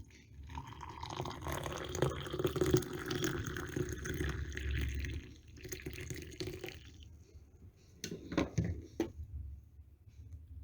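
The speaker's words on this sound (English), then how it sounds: "A teaspoon, put it there, and then you put some hot water." Hot water pours steadily into a cup holding a teaspoon of wheatgrass for several seconds, then stops, followed by a few short splashes and drips.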